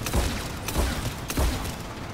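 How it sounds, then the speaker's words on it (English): Turret gunfire in the video game Mass Effect 3, three heavy booming bursts at a steady rhythm, close and loud, with no talking. "Oh man, they got freaking turrets."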